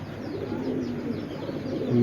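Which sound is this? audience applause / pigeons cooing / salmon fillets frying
pigeons cooing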